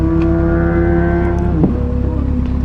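A Kawasaki ZX6 sport motorcycle revs as it passes, a loud, steady high-pitched engine whine that shifts abruptly in pitch midway, heard up close over constant road noise.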